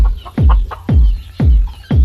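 A hen clucks softly up close, with heavy low thumps repeating about every half second.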